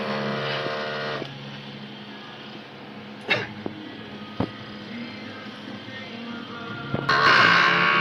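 An inkjet printer runs a head cleaning cycle, a steady mechanical whir and hum with a few clicks and knocks, then a louder burst of motor noise near the end, fairly close and without talk.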